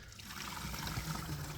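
Water pours from a hose into a 5-gallon bucket under the pressure of about 90 gallons of stored water, giving a soft, steady trickling splash that stays even throughout.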